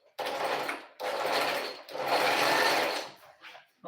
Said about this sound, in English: Normally I'm supposed to overlock this separately, or even trim up the excess before.